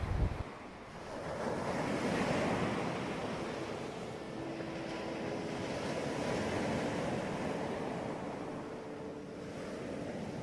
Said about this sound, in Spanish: No son las piedras, es el mar.